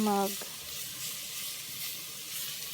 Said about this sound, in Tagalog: ilalagay na po natin yung ating pork. Ayan. So, i-mix lang po natin.